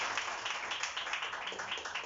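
A church congregation applauds during a service in a dense, steady patter of many hands clapping together, moderately loud, with no talking over it.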